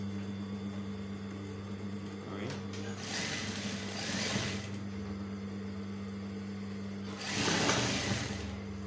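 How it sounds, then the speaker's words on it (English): Sewing machine stitching children's pants gives two short whirring bursts of rapid needle stitching, separated by a pause with a low steady motor hum underneath. "So we'll sew and stop somewhere here."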